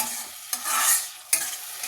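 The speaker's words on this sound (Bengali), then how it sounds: "মাছের ঝালের মশলাটা যে কষানো হয়ে গেল" Spice paste for a katla fish curry sizzling in a pan while being stirred, with a close, steady frying hiss broken by a couple of sharp spatula scrapes and no speech.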